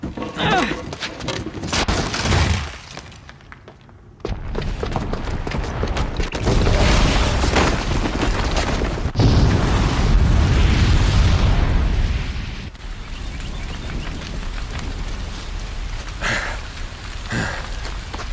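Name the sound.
bomb booby trap explosion in video game Horizon Zero Dawn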